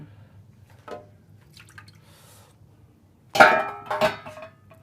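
Water splashes and pours out of a Gaggia aluminum espresso boiler in a short burst with clattering, after a few faint drips and knocks in a quiet room.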